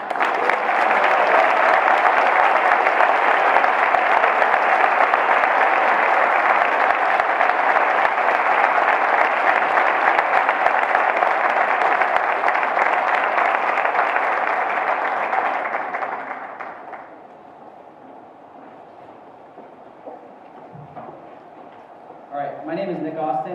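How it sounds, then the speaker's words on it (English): Audience at a high school National Honor Society ceremony applauding the seniors, a dense sustained roar of clapping that fades out after about fifteen seconds, leaving a quiet room with a brief stir near the end. "Let's give the seniors a round of applause."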